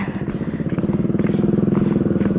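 A motorbike puttering along a muddy rice-field track, its engine chugging in a rapid, even low pulse close by, steady and loud for the whole stretch, with faint clatter over it.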